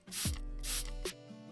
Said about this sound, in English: Yeah, I like the spray bottle,